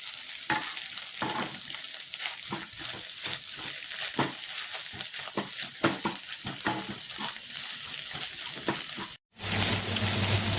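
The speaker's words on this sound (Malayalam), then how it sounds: "പിന്നെ കശുവണ്ടിയും മുന്തിരിയും കൂടി ഫ്രൈ ചെയ്തെടുക്കുന്നുണ്ട്" Cashews and raisins fry and get stirred in a pan for egg rice, a steady close sizzle broken by repeated scraping stirs, then a brief pause before a louder, brighter burst of frying near the end.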